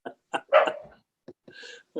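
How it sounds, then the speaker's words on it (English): A dog barks indoors several times in a short irregular series of sharp, fairly loud barks with brief gaps, heard alone without talk. "hear a dog barking"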